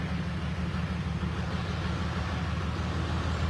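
A 1996 Toyota Land Cruiser LC80 runs nearby with a deep, steady engine rumble, a constant low drone that holds even throughout with no revving or speech.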